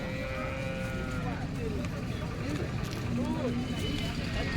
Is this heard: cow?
yes